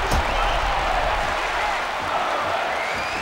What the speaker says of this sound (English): this crowd tonight really supporting Shane Carwin.